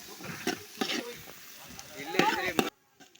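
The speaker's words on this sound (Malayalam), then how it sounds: "ഉള്ളി അങ്ങനെ വെച്ചിട്ടുണ്ട്. ഇത് മൂപ്പിക്കാൻ ഇട്ടിട്ടുണ്ട്." Onions fry in a pan for a Kerala-style chicken curry, with uneven bursts of sizzle and stirring clatter that cut off abruptly into near silence.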